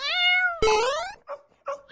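A cat meows loudly and close up, one long drawn-out meow followed by a sharper rising cry and two shorter meows, with no other sound.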